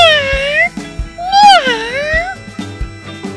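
A cat meows twice, long rising-and-falling cries that stand out clearly, with faint background noises between them.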